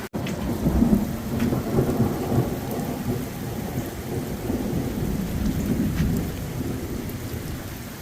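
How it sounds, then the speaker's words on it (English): Steady heavy rain hisses on surfaces, bouncing off a car windshield, with low rumbles of thunder rolling underneath throughout, no voices present. "Not sure if you guys can hear the rain outside."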